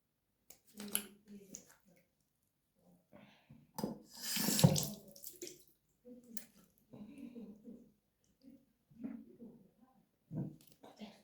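A bathroom tap runs in short bursts as hands splash water on a face, with a louder gush in the middle, broken by pauses and quiet speech.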